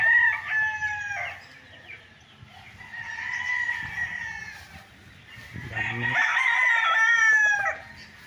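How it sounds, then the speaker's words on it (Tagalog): Several roosters, fighting cocks kept for training on a fenced farm lot in Pagsanjan, Laguna, crow in long rising calls that overlap, with one close and loud near the end and faint clucking beneath. "Dito nila train yung mga manok, yung mga pansabong."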